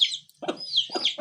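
Chicken clucking in a rural outdoor yard: a few short, close clucks in separate bursts, with no talk over them.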